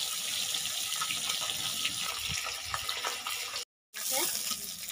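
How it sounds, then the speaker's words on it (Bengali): Rui fish pieces, rubbed with salt and turmeric, frying in hot mustard oil in a village kitchen: a steady, loud broadband sizzle with crackles and spits, briefly cut off near the end before resuming. "তেল গরম হয়ে গেছে, এবারে মাছগুলো ভেজে নিচ্ছি।"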